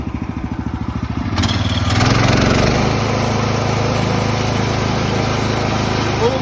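Small gasoline engine on a Woodland Mills sawmill with electric start, cranking and catching, then revving up to a loud steady drone that runs on close by, with someone talking over it.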